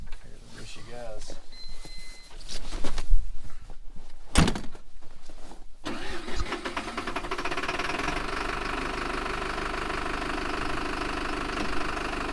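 A 1999 PistenBully 100 snowcat cranks and its engine catches, then settles into a loud, steady, rumbling idle close by, after some earlier clunks and brief talk.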